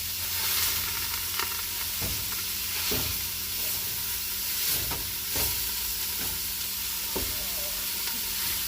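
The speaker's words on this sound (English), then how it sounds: "I'm going to add this meat into it. Chop it up a little bit." Ground meat frying in a pan for pasta meat sauce, a steady sizzle broken by repeated scraping and chopping knocks as a utensil breaks it apart, close and moderately loud.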